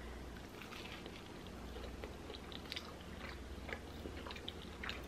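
Close, quiet crunchy bites and chewing of a homemade spicy tuna melt with jalapeños, onions and cheese, a run of soft crackling chews with no talking.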